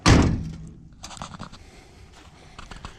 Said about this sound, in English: And this door closes real good as well